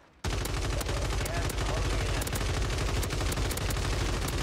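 Rapid automatic gunfire rattles nearly nonstop in Call of Duty Warzone on Rebirth Island, loud dense bursts with sharp individual shots cutting through, starting abruptly and continuing throughout.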